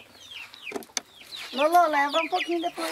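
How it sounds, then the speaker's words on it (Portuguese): Chickens on a small rural farm clucking up close, a few short clucks followed by a longer, louder run of cackling calls, with a person speaking briefly under them. "Eles estão cheios, essas galinhas."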